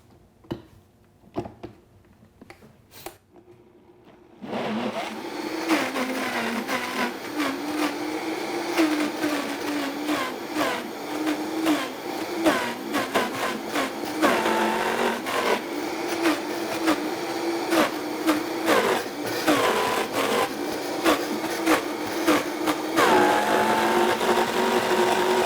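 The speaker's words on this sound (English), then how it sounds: "I'm gonna put the lid on there, and I'm gonna blend this up." A blender whirs through a thick paleo truffle mixture of banana and pumpkin spice, a loud steady motor drone with shifting load after a few seconds of clattering setup, running without speech.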